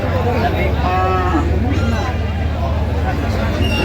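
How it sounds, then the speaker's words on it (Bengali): Cattle moo repeatedly at a busy livestock market where thin, bony dairy cows are being sold, loud and close, over a constant hubbub of bargaining voices. "গরু"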